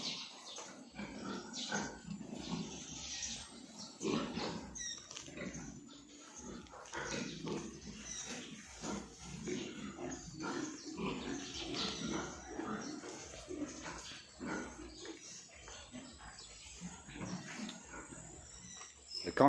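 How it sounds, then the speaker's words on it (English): Pigs grunt and squeal in a busy, continuous barnyard chorus, with scattered louder snorts and animal calls throughout. "Pigs are all fed and cleaned out."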